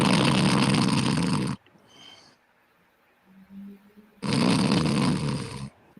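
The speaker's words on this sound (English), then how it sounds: "A snore?" Snoring, apparently from a dog, comes as a low rumbling breath in a quiet room, set between two loud bursts of broadband noise at the start and end.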